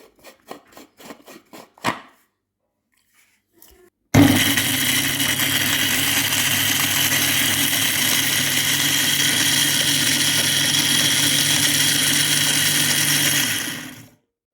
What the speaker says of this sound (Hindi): अब हम इसको ये ग्राइंडर में डाल के इसको हम पीस लेंगे अच्छी तरह।